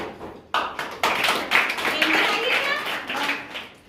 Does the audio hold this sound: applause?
yes